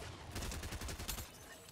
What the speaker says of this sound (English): He was standing there just shooting his gun.